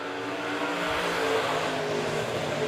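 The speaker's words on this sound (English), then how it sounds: "Hoyt Miller coming around the lead lap number 1." During heat races at Monett Motor Speedway, a race car's engine roars loud and continuous as it comes around the track, a steady dense drone with no talk heard.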